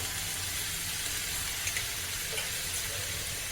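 Chopped tomatoes sautéing in a pan with salt for a spicy Maharashtrian tomato-chili thecha, giving a steady, even sizzle that holds at one level throughout with no talk.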